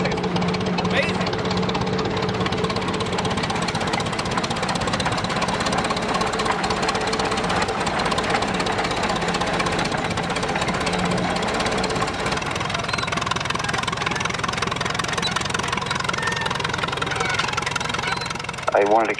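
A restored 1919 Best 25 crawler tractor engine runs steadily up close, a continuous loud knocking, hammering rumble that holds without break throughout, with some voices faintly present beneath it.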